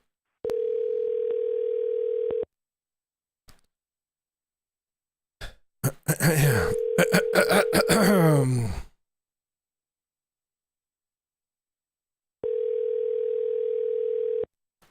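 A telephone ringback tone sounds while a call is placed, steady two-second tones repeating with long silent gaps between, and a brief burst of other voice audio breaking in between rings.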